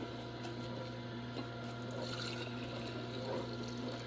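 Freshly made juice poured in a steady, continuous liquid stream over a low constant hum, with no talking.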